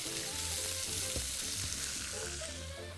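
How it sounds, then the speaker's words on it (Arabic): Thin strips of steak or veal sizzle and fry loudly in a hot pan, a steady dense crackle with light stirring throughout and no voices. "نزلت لحمة الستيك أو لحمة العجل مقطعة شرحات زي البيف ستروجانوف أو زي الشاورما، مقطعة شرحات رفيعة"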